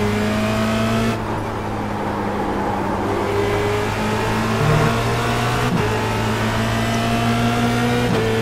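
A Formula Renault 2.0 race car engine at Spa in iRacing: a steady, loud droning whine held under load, with gear changes and slight pitch shifts as it runs on.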